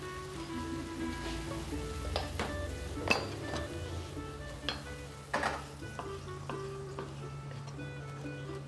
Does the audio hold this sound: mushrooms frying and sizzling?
yes